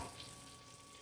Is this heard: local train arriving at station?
no